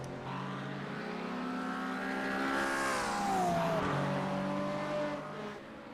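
Acura and McLaren race cars at Spa, engines roaring loud and steady as one car passes close with a rising then falling pitch sweep, continuous racing noise throughout.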